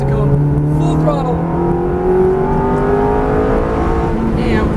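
A Ferrari F430 on a track at full throttle, its engine note climbing steadily in a loud, close, sustained rev with rising harmonic tones, and an instructor speaking over it.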